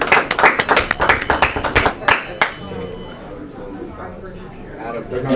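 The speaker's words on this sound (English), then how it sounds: "You guys can clap." People clap for the 2025 champions at a breakfast event, a burst of quick, loud, close handclaps over the first two seconds that fades into murmuring room noise and talking.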